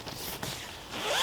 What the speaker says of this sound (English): Two-way zip.